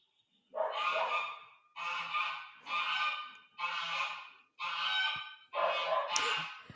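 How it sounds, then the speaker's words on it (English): Six loud bursts of geese honking in quick succession, each a harsh, raucous cluster of calls separated by short gaps, close and prominent. "that's geese just screaming"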